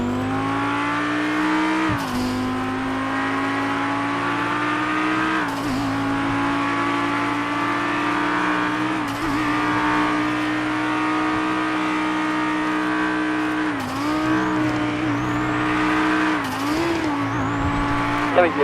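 Racing cars in a video game roaring along with a steady high engine whine, repeatedly shifting and revving, with occasional tire squeals, constant and loud throughout.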